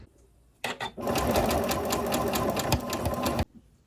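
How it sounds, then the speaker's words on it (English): A sewing machine stitches the side seam of a garment made from a thrift-store tablecloth. After a couple of short stuttering starts, it runs in one loud, steady, close burst of rapid needle strokes for about three seconds, then stops abruptly. "we're going to sew the entire sides together from the cuff of the arm through the armpit down to the side, all in one big giant stitch"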